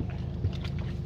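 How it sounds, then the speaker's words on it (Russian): An outboard motor on an inflatable boat drones steadily on the water, a low, even engine hum with wind-like rushing over it. "Это лодка, получается, Володи, да? Ну, то есть этот, и мотор его."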